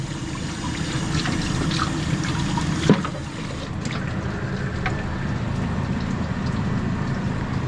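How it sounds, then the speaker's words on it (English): Water running and splashing continuously while the cover of an LG concealed duct unit is wetted and wiped, a dense, steady wash of liquid noise with a brief louder splash partway through. "I kind of just wet it and then wipe it with a rag"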